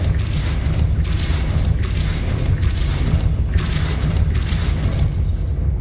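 A spinning mechanism in the Hogwarts Legacy game, set turning by a Depulso spell to raise a platform, gives a steady heavy rumbling grind with rhythmic pulsing swells roughly every second, loud and continuous.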